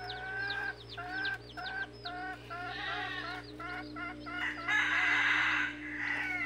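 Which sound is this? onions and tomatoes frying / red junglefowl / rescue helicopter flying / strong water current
red junglefowl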